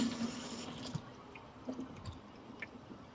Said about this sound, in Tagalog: So, gasan din natin to water chestnut. Ayan guys, gasan natin mabuti.